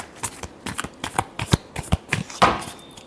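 Tarot cards riffled and shuffled by hand in a quick, uneven run of papery flicks and soft slaps, close and fairly quiet with no voice.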